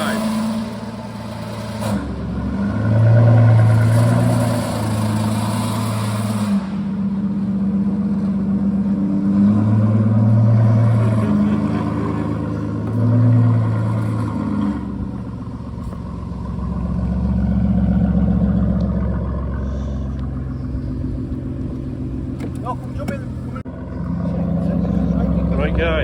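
An Aston Martin engine on a test drive, a steady low drone that swells and revs several times as the car accelerates, with some talking over it.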